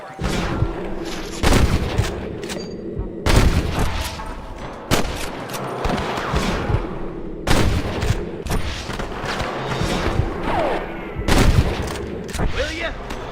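Gunshots crack out in irregular bursts during a Red Dead Redemption shootout, sharp loud reports several seconds apart, some in quick doubles, over a rumbling game backdrop with voices talking in between.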